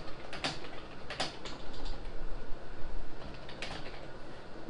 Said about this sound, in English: You can enter your address here, street, city, state, zip